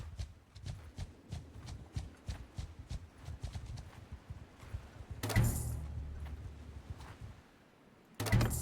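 Horse hooves clip-clop steadily in Mount & Blade II: Bannerlord, a brisk rhythmic patter of many hoofbeats at moderate loudness, with heavier louder bursts breaking in twice near the end.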